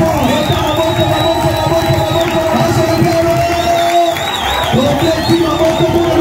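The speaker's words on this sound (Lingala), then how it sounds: "Seigneur, acclamez très fort." A church congregation cheers and shouts praise to the Lord, a dense, loud wall of crowd voices with sustained whoops and calls that carries without pause for several seconds.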